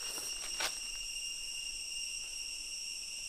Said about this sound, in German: Ein durchdringender Sound. Die hören erst in der Nacht auf. Zikaden.